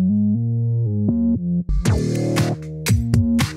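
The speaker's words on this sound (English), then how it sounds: "what you're hearing now is just the bass group" Bass group of a 117 BPM breaks track built in Ableton, a deep sustained synth bass holding stepped notes, then joined by punchy broadband hits and a busier low groove in the second half, loud and alone with no talking.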